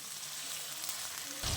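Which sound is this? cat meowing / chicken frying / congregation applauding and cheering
chicken frying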